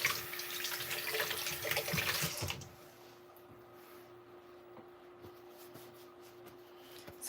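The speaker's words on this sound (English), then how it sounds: "I'll be rinsing my hands" Hands rinsed under a running kitchen tap: a steady, bright gush of water for about two and a half seconds, then the flow cuts off, leaving faint drips and a low background hum.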